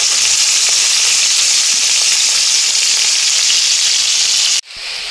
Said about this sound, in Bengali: এবার পেঁয়াজ দিচ্ছি, পেঁয়াজটা ভেজে নেব।